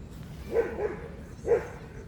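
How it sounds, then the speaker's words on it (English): Dogs bark outdoors, two distinct barks about a second apart, moderately loud and slightly distant. "now dogs everywhere coming around"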